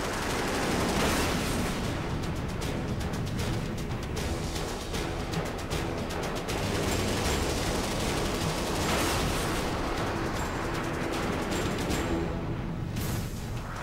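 Short burst of cannon fire from a fighter jet in a desert dogfight against a MiG, dense rapid crackling bursts over a continuous loud roar of engines and battle noise, no speech.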